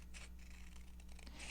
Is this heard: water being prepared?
no